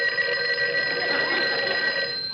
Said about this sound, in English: What's that? The phone.